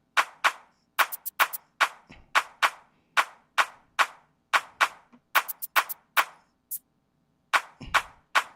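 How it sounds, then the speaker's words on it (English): Sharp, dry claps in an Afropop gospel music track, each strike standing alone in silence, falling in a steady rhythmic pattern with quick doubled hits, close and prominent. "So let's hear how the clap came in."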